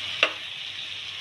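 Peas and mushrooms sauté in a hot pan: one quick scrape of a stirring utensil, then a steady close sizzle that continues alone.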